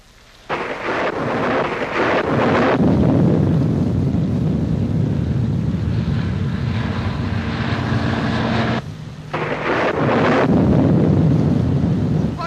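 Thunderstorm with heavy rolling thunder and gusting wind, a loud sustained rumble that swells and briefly drops away before returning, with no voices heard.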